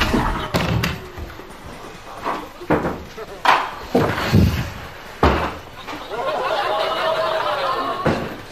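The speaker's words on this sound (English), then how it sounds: "Don't you dare slam that door in my face!" A door slammed shut in the Big Brother UK house, heavy thuds and bangs landing several times amid loud chatter and shouting.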